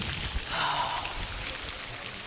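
Monsoon rain falls in a steady, soft hiss, faint and even throughout with no clear drops standing out.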